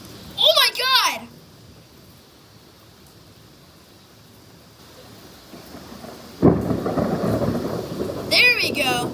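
Rumbling thunder rolls through a heavy thunderstorm with rain, rising loudly in the second half over steady rain hiss, while excited voices shriek and talk at the start and end.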